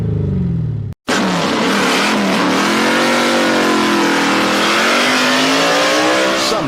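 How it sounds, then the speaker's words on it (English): A race car engine revs hard through a loud, electronically controlled gasser-style exhaust, a steady roaring drone with rising pitch after a brief cut near the start, close and dominant with no talk. "With a quick-time performance electronically controlled exhaust system, you can have race car loud with the flip of a switch or a push of a button"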